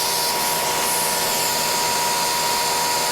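A drill cutting into a workpiece during woodworking fixture building, set by DRO for partial depth, gives a steady broadband whine that stays constant and fairly loud throughout, with no talk.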